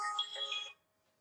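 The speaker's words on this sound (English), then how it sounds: "And my phone is ringing." A mobile phone ringtone rings briefly and fairly clearly on its own, a bright electronic tone that cuts off abruptly into near silence.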